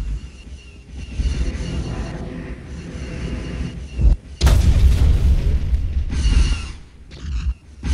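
An AT-AT walker blowing up in a Star Wars video game battle on Corellia, heavy deep booms and rumbling blasts, with a big close explosion mid-clip amid continuous battle noise.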